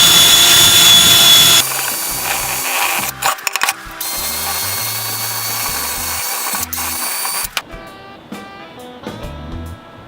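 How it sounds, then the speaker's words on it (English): A power drill with a wire wheel cleans up aluminum for a truck chest-style tool box riser, spinning up loudly, then running in bursts of scrubbing and grinding with short stops between. "I'm going to go ahead and wire wheel this aluminum just to clean it up a little."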